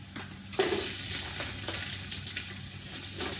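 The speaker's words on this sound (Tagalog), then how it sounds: "Ilulunod na po natin ang ating crab and shrimp po, garlic." Crab, shrimp and garlic frying in a pan with chili, a loud steady sizzle that jumps up as the seafood drops in, with faint stirring scrapes and no talking.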